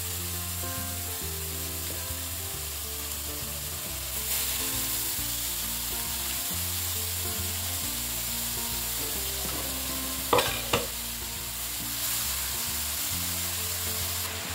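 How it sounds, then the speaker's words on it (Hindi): Grated carrots for gajar halwa roast in a pan with a steady, close sizzle and frying hiss, broken by a few sharper scraping stirs, with no talking. "थोड़ी देर भून लेंगे, भूनने के बाद में इसको ढक देंगे पकने के लिए"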